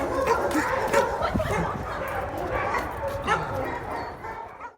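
Dogs at the Cabell Wayne Animal Shelter bark and yip repeatedly in overlapping bursts, with some whimpering, fairly close and busy, while a person talks over the noise.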